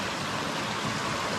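Annie Creek rushes through its canyon in Crater Lake National Park, a steady broadband hiss of flowing water heard close and unbroken, with no speech.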